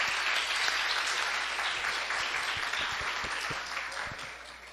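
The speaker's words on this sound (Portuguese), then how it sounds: "Uma salva de palmas para ele, fazendo favor." Warm, continuous applause from a school audience for a participant, a thick wash of many hands clapping that slowly tapers off toward the end.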